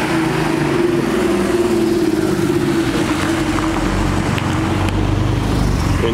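Porsche 911 Turbo sports car passing on a street beside a square, a steady loud engine and road roar throughout with a low drone, alongside continuous traffic noise.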